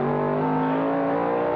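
A 1970 Ford Mustang Boss 302, car number 61, leads a vintage road race through turns 10 and 11, its engine a steady, loud droning roar with strong harmonic tones, holding fairly constant pitch as it passes.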